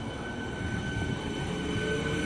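An RCF-built MEMU train running on an Indian line between Kalyandurg and Devangothi, heard from onboard as a steady, continuous rumble and rolling hum that stays even throughout, with no talk.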